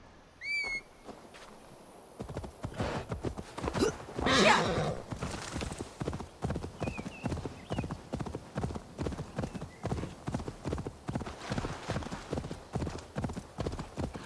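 Horse hooves clip-clop in a steady, quick rhythm, close and fairly loud, with a brief neigh near the start and no talking, from the video game Assassin's Creed: Valhalla.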